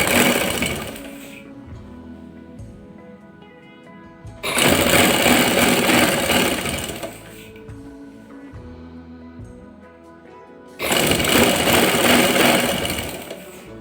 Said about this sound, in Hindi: अब मैं इसकी सिलाई लगाती हूँ।